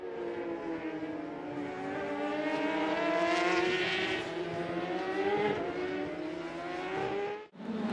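A race car, the number 77 on a track where crashes and flips happen, roars past loud and close with a steady, high engine drone, rising slightly as it nears, then cuts off abruptly near the end.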